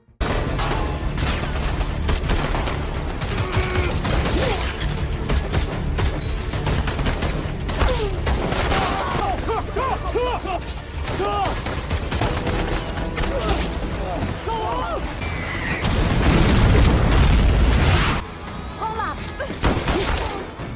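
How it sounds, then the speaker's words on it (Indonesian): Dense bursts of gunfire crackle and pop continuously amid loud chaotic noise, with a heavy rumbling surge near the end. "mereka diberondong peluru lagi dari berbagai arah"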